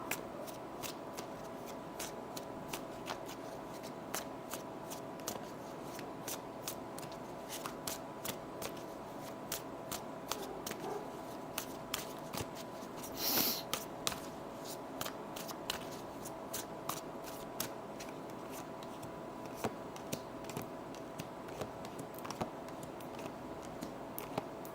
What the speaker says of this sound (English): I'm gonna just start shuffling